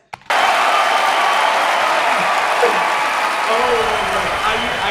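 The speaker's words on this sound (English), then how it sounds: "I needed to play it one more time just for the applause, just to hear it" Eurovision 2022 arena crowd roaring with sustained applause and cheering after Spain's performance, a dense, loud wash of clapping that starts abruptly and holds steady throughout with faint voices within.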